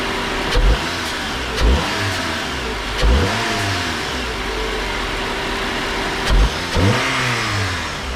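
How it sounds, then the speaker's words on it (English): A Mazda Miata with a swapped K-series engine and electronic throttle idles and is revved repeatedly in short bursts, about five quick throttle blips with a low exhaust rumble, close by. "Give it a quick rev."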